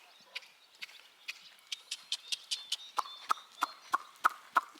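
A mare cantering during a riding lesson, hooves striking the ground in a steady, regular rhythm of sharp beats that grow slightly louder and closer over a few seconds, with no talk over them.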